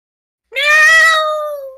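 A single loud, drawn-out meow rises then slowly falls, close and clear against silence; it is most likely a person's voice imitating a cat.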